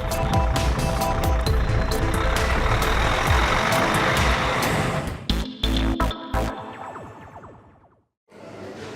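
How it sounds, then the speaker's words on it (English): Heavy trucks, including a Scania F816 Globetrotter XL, drive out to a parking area, a loud continuous engine roar with passing rumble that drops away near the end. "the trucks drive out to the parking area, ready for delivery to a customer somewhere around the world"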